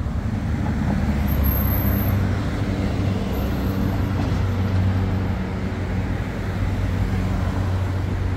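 Steady, loud road traffic on a busy street, a continuous rumble of passing cars, buses and trucks heard close by with no talking.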